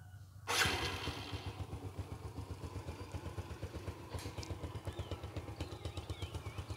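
A Sirius motorcycle engine is started and settles into a steady idle: after a short quiet lead-in, one sharp burst catches, then an even, rapid low thumping runs close and loud.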